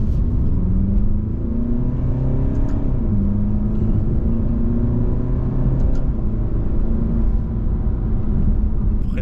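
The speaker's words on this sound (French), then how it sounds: "ça crie un peu dans les tours le diesel" An Alfa Romeo Giulia Veloce diesel engine drones loudly and climbs in pitch as it revs, a rumbling, slightly strained whine rising and holding over several seconds.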